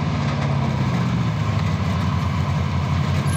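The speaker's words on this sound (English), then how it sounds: "Gonna start this ugly truck." A truck engine in a video game runs with a loud, steady, low rumbling drone that holds throughout without a break.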